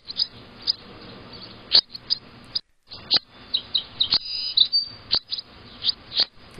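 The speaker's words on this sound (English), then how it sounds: "today we actually have birds, chicks, baby birds, baby chicks, whatever they're called, popping their heads up" Bewick's wren chicks chirp from the nest in short, high, repeated peeps, some in quick clusters, with brief pauses between them.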